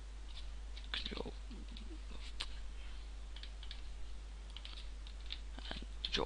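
Keyboard shortcut keys are pressed while working in Photoshop, producing a few faint, quick clicks and taps that come in small bursts over a quiet background.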